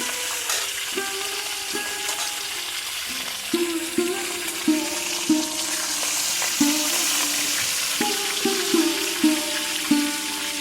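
Food fries in mustard oil over a straw fire on a sandbar of the Padma River: a continuous loud sizzle with repeated stirring clatters and a recurring tonal ringing over it. Nobody talks.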